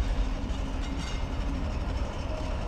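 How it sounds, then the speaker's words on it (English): A train rolls into a station in a horror adventure game, a steady low rumble with faint rail clatter that fills the scene, loud and continuous, with no voices over it. "The train's finally here, yes!"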